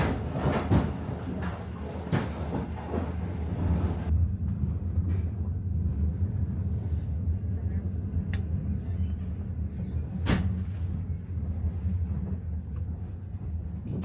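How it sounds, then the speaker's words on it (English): Sleeper train K7039 pulls into its final stop at Mohe Station with a low, continuous rumble, broken by a few sharp clanks and knocks. "After a dramatic river crossing, train K7039 pulls into its final stop, Mohe Station."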